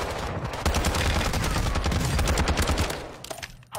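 Rapid, loud pistol gunfire in an online shooter game, with dense overlapping shots crackling continuously for several seconds before tapering into scattered pops.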